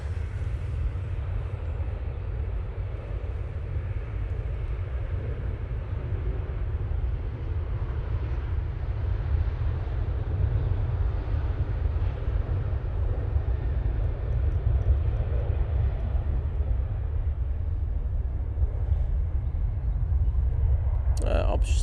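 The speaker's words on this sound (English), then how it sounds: "Ryanair on the roll." A Ryanair airliner rolls for takeoff at Manchester Airport, a steady heavy jet roar from a distance, rumbling continuously and holding level throughout.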